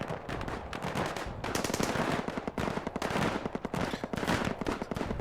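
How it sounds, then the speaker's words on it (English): Dense WW1 battlefield gunfire from the trench strategy game Dig In: rapid machine-gun bursts and rifle volleys crackle continuously at high intensity, with occasional heavier artillery thuds blended into the din, no voices. "We're losing a lot of men to artillery fire."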